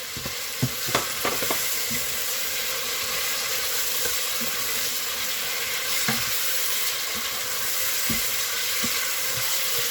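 Bell pepper sizzles steadily in a hot pan during a quick fish preparation, a constant frying hiss with occasional sharp crackles and soft stirring taps throughout.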